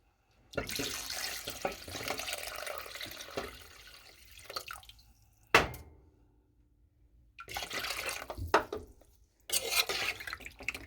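Water pours into a pot in several separate streams, splashing and gurgling, with brief silent pauses and a clank between pours.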